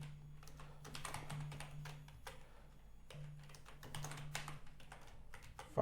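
Typing on a computer keyboard while writing a short list of names in Python code, irregular bursts of close, quiet key clicks with brief pauses, over a steady low hum.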